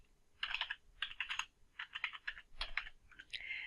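Keys clack on a computer keyboard as alt text is typed, coming in quick uneven bursts of close, crisp keystrokes separated by short pauses, with no voices.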